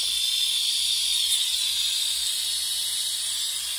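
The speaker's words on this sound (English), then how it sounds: "It's actually starting to run out of steam" A 1200-watt handheld steam cleaner hisses steam in a steady, loud, continuous jet held close, with no breaks and no talking.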